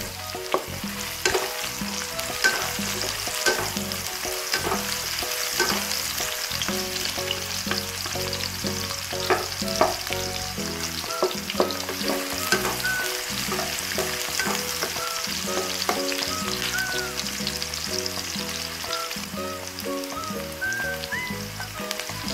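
Garlic and onion sauté in hot oil in a pan, giving a close, continuous crackling sizzle with popping bursts and stirring noises throughout.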